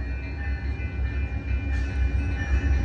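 Amtrak Coast Starlight passenger train pulling into Oakland Jack London Square station, a loud close low rumble of rolling cars and engine with a faint high hum, steady throughout with no voices.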